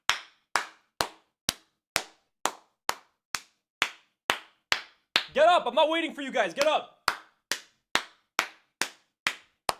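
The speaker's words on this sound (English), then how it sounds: "You guys should all be clapping." Slow, even single claps from one person during a Manchester United vs Sunderland watchalong stream. The claps are loud and close and keep a steady beat, with a burst of shouted talk in the middle.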